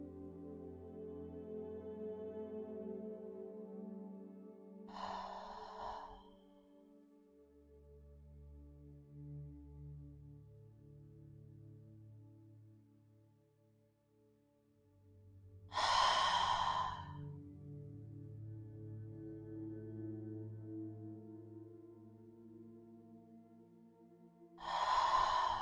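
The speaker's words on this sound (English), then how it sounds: "take 3 clearing breaths in through the nose and out through the mouth" Three deep breaths spaced several seconds apart, each a loud airy burst drawn in through the nose and released through the mouth, set over soft, sustained relaxation music during a restorative yoga session.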